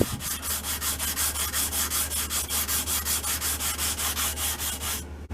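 Rhythmic back-and-forth strokes of sandpaper on the wooden fore-end of an M1912 Norwegian Krag carbine, about four strokes per second, close and moderately quiet, ending abruptly with no talking.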